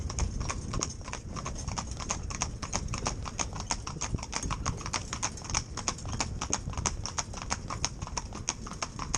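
A horse's hooves clip-clop steadily, with rapid, even strikes on a hard surface throughout, fairly quiet and set against a broad background hiss.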